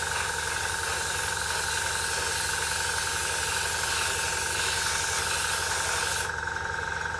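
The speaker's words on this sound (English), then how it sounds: "it's a case of just opening the airbrush up quite wide, making sure the model gets a good coat in all areas" An airbrush sprays paint onto the airframe of a Sea Flanker model aircraft, a loud, steady, continuous hiss close to the microphone that holds even throughout, with a slight change near the end.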